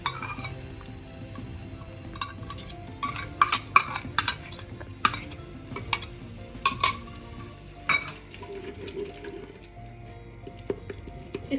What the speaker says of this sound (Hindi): और अब मैं इसमें डाल दूँगी लहसुन अदरक जो मैंने पीस के रखा था, लहसुन, हरी मिर्चें और साबुत धनिया।